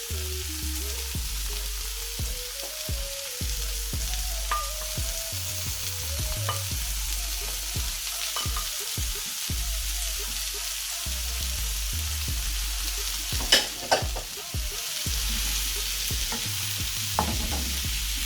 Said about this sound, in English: And now I'm going to add in my prawns.